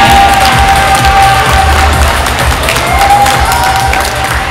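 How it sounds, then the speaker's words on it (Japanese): A crowd at a roller skating arena applauds and cheers, loud, sustained clapping mixed with shouts and excited voices filling the large indoor space throughout. "拍手をお迎えください。"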